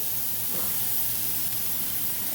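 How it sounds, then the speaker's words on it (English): A rib roast searing in a hot pan produces a continuous, loud, even hiss that holds steady throughout without breaks or voices. "I'm going to let that sear for a little bit."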